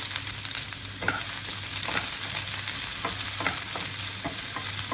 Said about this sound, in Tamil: பேனில் ஆயில் விட்டுட்டு ஆனியன் போடணும்